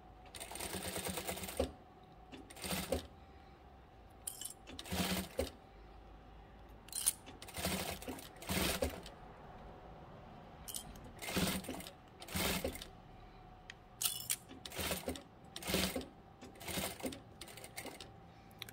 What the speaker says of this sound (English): turn your work around and sew the whole thing down.